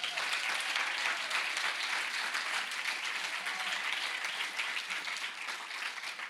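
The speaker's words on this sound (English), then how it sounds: "can you please give a round of applause to our 50 volunteers?" Steady, loud applause from a festival audience at a Somali Week opening event, a thick continuous wash of many hands clapping for the whole stretch without pause.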